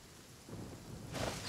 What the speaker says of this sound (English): Oh my god, it's raining again.